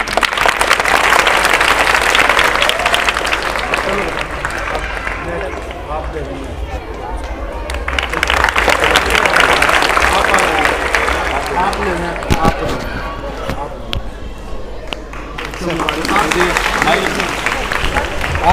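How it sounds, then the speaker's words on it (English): An audience at a school debate program claps for students called to the stage, with bursts of fairly loud group clapping and crowd murmur rising and falling between them, and voices talking over parts of it. "Let's clap for them."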